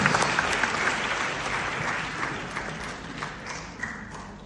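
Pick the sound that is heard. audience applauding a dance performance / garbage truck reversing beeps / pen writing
audience applauding a dance performance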